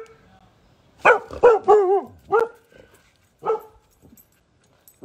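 Several dogs bark in short bursts, a cluster of loud close barks followed by a couple of sparser yips, with quiet room tone between.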